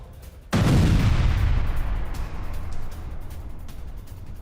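Heavy explosion from an IDF strike on a Hezbollah rocket launch pad in news footage: a single sudden loud boom that rolls into a long fading rumble, with no voices.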